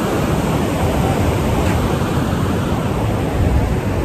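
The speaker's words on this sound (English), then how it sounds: "The waves break differently from one side of the pier to the other." Dense, continuous roar of ocean waves crashing around a pier, loud and close, a broad wash of surf with no pauses.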